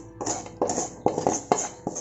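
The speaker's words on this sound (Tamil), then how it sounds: "இது நல்லா கிளறி விட்டுருங்க" Goat trotters coated in fried masala are stirred inside a pressure cooker for paya, giving close, repeated scraping and clattering strokes in a steady rhythm of about two per second.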